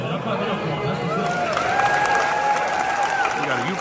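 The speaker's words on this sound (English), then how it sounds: "y'all clap it up for him" Audience at a live comedy tour show clapping and cheering: steady, dense applause from a large crowd throughout, with voices and chatter mixed in.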